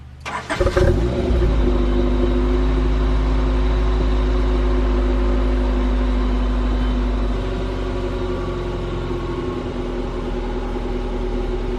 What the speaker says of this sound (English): Time to turn on the car to see if she turns on.